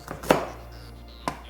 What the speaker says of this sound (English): Now I'm just gonna mince my ginger